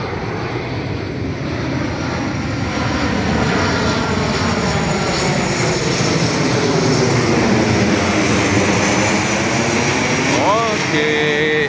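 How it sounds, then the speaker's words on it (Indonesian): An airplane passes overhead at night, its steady broad engine roar holding loud throughout with a slowly shifting tone; a short rising whine near the end, and faint voices may sit beneath the noise. "Ada pesawat mau lewat."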